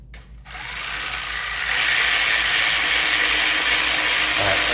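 A power tool whirs on the nut of a V-band clamp on a GR Corolla's Magnaflow exhaust, starting after a brief pause and rising into a steady loud buzz close by.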